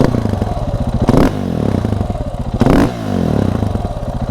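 A 2015 KTM SMC 690R supermoto fitted with an airbox mod blips its loud exhaust, the single-cylinder idle thumping steadily between two sharp revs that rise and fall close to the microphone.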